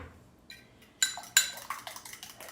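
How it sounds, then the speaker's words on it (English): Eggs are beaten in a big bowl with a utensil, giving a quiet start and then a quickening run of sharp clinks and taps against the bowl, close up. "I'm just going to beat these a little bit."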